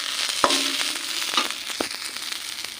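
Dried fish frying in a wok gives a soft, steady sizzle, with a few sharp clicks and pops scattered through it and no voices.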